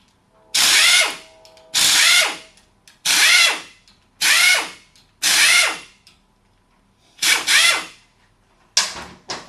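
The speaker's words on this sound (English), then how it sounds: "I'm going to remove the bolts with an impact." An impact wrench fires in short, loud, close bursts, about seven in a row with brief pauses between, backing bolts out of the rear head of a Sanden-style AC compressor.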